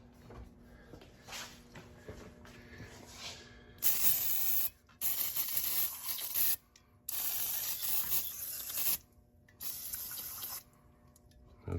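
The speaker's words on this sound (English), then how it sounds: "So now we're gonna get some penetrating oil." Penetrating oil sprayed from an aerosol can onto an Audi 2.0 TFSI intake manifold, several close hissing bursts of a second or two each with brief pauses, alone after some faint handling noise.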